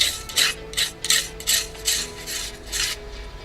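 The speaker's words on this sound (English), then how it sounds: "use an old toothbrush and clean all the sanding dust between the planks" An old toothbrush scrubs sanding dust from between the wooden planks of a model gunboat hull, a close rhythmic rasping in about eight even strokes.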